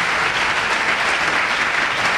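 A church congregation applauds steadily and loudly throughout, a dense, continuous wash of clapping with no pauses, acclaiming the word of God during a sermon.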